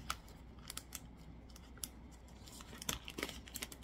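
Faint crinkling and sharp snipping sounds, like plastic packaging being cut open, with irregular small clicks and rustles.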